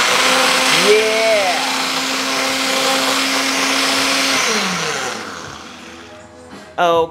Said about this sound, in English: So I'm gonna go ahead at the top and blend it just, you know, for a moment.